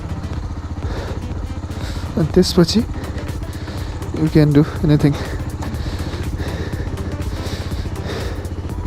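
A KTM Duke 250 motorcycle idles with a rapid, regular clattering from its stiff clutch, a steady mechanical rattle running throughout while someone talks over it.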